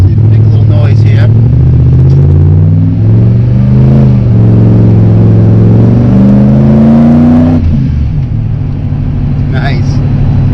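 A supercharged Ford SVT Lightning pickup truck revs its engine up and down, the pitch climbing and falling in a loud, close drone heard from inside the cab.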